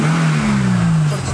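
Mercedes-Benz W124 engine with about 270,000 km idling and revving up, a steady low hum rising gently in pitch, close and loud throughout, with no talk over it.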